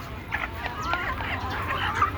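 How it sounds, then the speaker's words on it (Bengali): Young native chickens cluck softly in a steady scatter of short calls, close by, over a low background rumble. "এই যে দেখেন, এখানে হচ্ছে একটু অল্প বয়সী মুরগি।"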